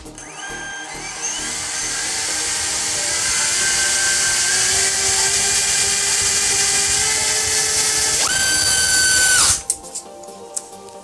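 An Emax RS2306 2750kV brushless motor spins a 5046 propeller on a thrust stand with a 40-amp controller, giving a loud, steady high-pitched whine that climbs in pitch, jumps up near the end, then cuts off abruptly.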